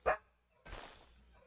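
Dogs bark in a room, one sharp bark up front, then after a short pause a rougher, longer bark or growl that trails off, fairly faint overall.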